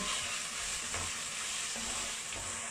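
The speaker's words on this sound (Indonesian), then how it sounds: "kemudian kita masukkan kayu manisnya dan juga dry lemonnya, ya. Ini kita tumis lagi." Chopped onion sizzles steadily in a pan with cinnamon and dried lemon, a continuous close frying hiss with occasional faint stirring clicks and no talking.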